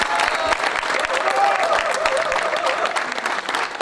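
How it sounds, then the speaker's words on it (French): Steady applause from an audience at a student event, dense and continuous clapping filling the room throughout, with a faint murmur of voices mixed in. "On va continuer d'applaudir."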